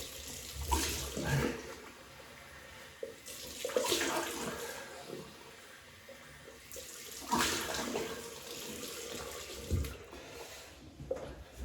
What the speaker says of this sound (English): We'll just wet this face.